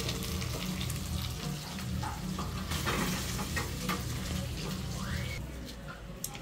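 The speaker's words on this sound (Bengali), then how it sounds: "এই যে দেখছেন আমি সব এরকম করে ভেজে নিচ্ছি।" Chicken pieces fry in oil in a home kitchen, a steady dense sizzle running throughout with occasional stirring scrapes, close and fairly loud, no talking.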